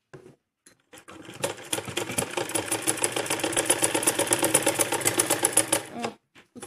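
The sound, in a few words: sewing machine stitching a kurti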